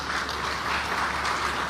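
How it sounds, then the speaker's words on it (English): A crowd at an investment conference gives a round of applause, a continuous even wash of many hands clapping at moderate distance, fairly soft and without speech. "Another round of applause for the MOUs."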